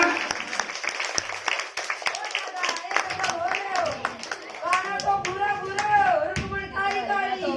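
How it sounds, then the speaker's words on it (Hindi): An audience claps for a devotional tableau of Krishna during a religious storytelling program, a dense run of rhythmic hand claps mixed with singing and music, while a voice carries on above them. "एक बार सुंदर सी झांकी के लिए जोरदार तालियां।"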